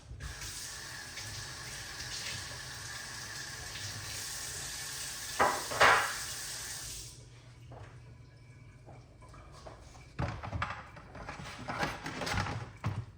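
Pineapple being rinsed under a running kitchen tap, a steady broadband hiss of flowing water for several seconds, then a brief clatter before it stops, followed by quieter handling knocks and splashes.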